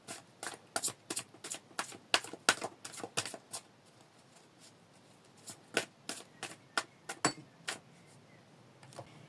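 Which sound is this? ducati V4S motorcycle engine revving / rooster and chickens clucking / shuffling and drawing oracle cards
shuffling and drawing oracle cards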